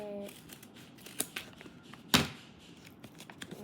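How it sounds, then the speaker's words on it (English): Scissors snip open the plastic wrapper of a blind bag package, with a few sharp close cuts and a crinkle of packaging after a brief spoken word. "Cut it."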